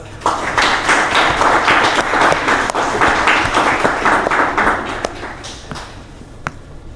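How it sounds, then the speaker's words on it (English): Banquet audience gives a round of applause for student club advisors, dense clapping that swells, then thins into scattered individual claps and fades near the end. "Can we give a round of applause to them?"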